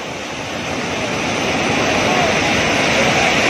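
Water pours over the Gondi check dam on the Bhadra river, a steady broadband rushing roar that swells slightly over the first second and then holds even and loud, with no voices over it.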